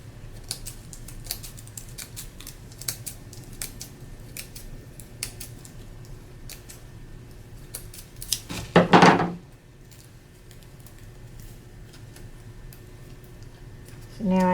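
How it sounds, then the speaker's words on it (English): Scissors snip folded paper in a series of short, crisp cuts at close range, quiet and irregular, with one louder rustling burst partway through. "I'm cutting towards the folded edge."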